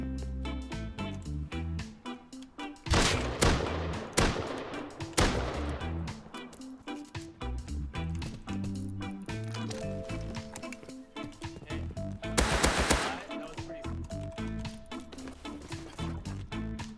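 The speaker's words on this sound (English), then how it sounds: "Some nearby shots brought me to Oxum's gas station" Gunfire in the survival game Rust near a gas station, sharp bursts of shots around three, five and twelve seconds over steady game music and ambience.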